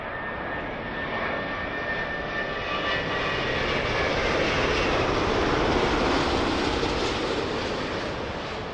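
A one-year-old Airbus A330-900 in from Seattle on landing approach to Heathrow runway 27L, its jet engines a loud, steady, broadband roar with a faint whining tone, swelling slightly as it passes close by.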